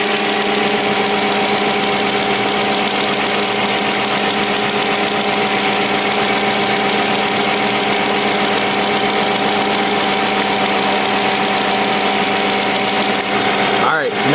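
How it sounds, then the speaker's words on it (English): A steady Audi S4 engine idles evenly and close up after a coolant reservoir sensor is plugged back in, a continuous hum with fixed tones and no speech over it. "It's idling a lot nicer now."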